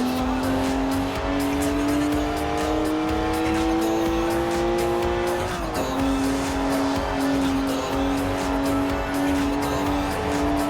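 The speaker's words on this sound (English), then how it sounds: "It's a BMW, so of course it's rear-wheel drive. 50-50 weight distribution too. It's a natural-born drifter." A rear-wheel-drive BMW drifts in the Forza Horizon 4 video game, its engine holding a loud, steady drone with tire squeal underneath and a brief dip and shift midway.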